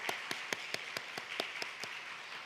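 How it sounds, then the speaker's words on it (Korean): A church congregation claps in a steady, evenly spaced rhythm, each clap distinct over a soft room hiss, moderately distant and fairly quiet. "하나님께 영광의 박수를 올리도록 하겠습니다"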